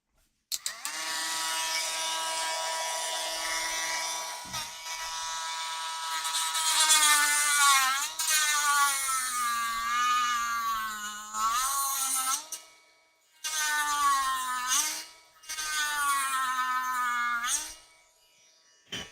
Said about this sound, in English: Where's my Dremel?